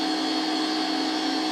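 A dual phase POE mini motor spinning freely at very high speed with no load, giving a steady, loud, even whine with no change in pitch or level throughout.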